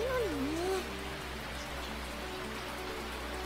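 Rain falls steadily in a video game, a soft, even hiss continuing throughout, with a brief gliding tone at the start and no other sounds over it.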